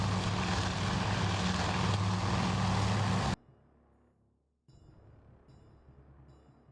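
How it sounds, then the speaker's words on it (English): Propeller aircraft drone in the naval strategy game Task Force Admiral, a loud, steady roar of engines that cuts off abruptly, then gives way to quieter ambient game sounds with faint tonal blips. "there's a lot of planes around here still"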